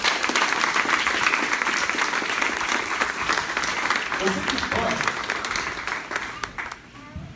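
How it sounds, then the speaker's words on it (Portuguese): Church congregation applauding the Lord during a Portuguese-language service, sustained crowd clapping throughout with a preacher's voice speaking over it, fading toward the close. "Pode aplaudir ao Senhor."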